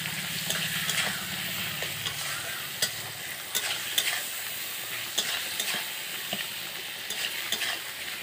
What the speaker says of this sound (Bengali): সব একসঙ্গে আমি কষে নেব।